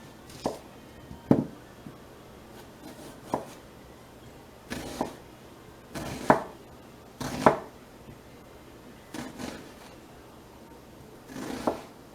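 A knife chops through produce on a cutting board while preparing a smoky barbecue sauce, giving about ten separate cuts at an irregular pace with quiet pauses between them, close by and fairly crisp.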